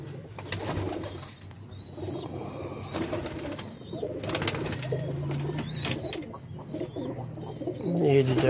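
Pigeons coo low and steadily, close by, with occasional wing flutters and chirps, while someone talks over the birds through much of it.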